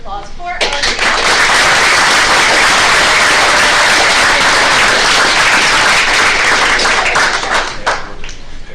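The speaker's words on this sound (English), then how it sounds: "could you join me in one last round of applause for our" Sustained audience applause fills a school board meeting room, loud and steady for about eight seconds before tapering, with a few sharper claps near the end.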